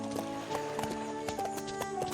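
Horse hooves clip-clopping at a walk in the game Sound of Horses, a steady, even rhythm of close, distinct hoof beats over a constant musical background, with no talking.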